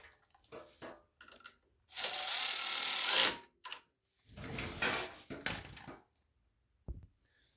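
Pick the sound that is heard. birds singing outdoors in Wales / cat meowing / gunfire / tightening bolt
tightening bolt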